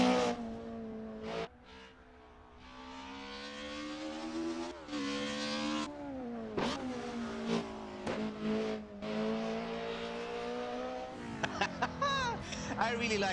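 A Mercedes 190 EVO II DTM racing car engine in a racing simulator roars and revs with strong harmonic whine, pitch rising and falling through gear changes, loud and continuous for the whole stretch.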